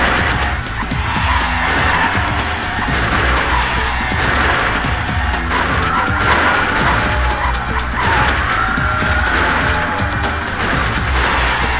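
A combat robot in the video game Robot Wars: Arenas of Destruction rams its opponent in a scrapyard arena, giving a steady, loud roar of grinding, scraping metal and skidding with no pauses and no voices.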